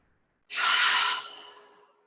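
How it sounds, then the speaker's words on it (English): One long, deep breath drawn in during a yin yoga class, a soft airy rush heard up close that swells and then gently fades out alone in quiet. "Breathing here, 5 more long breaths."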